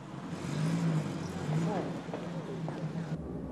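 A van engine revs and pulls away up close under tense, hushed talk during a UK crime reconstruction, with a low, steady engine rumble that rises and then eases off.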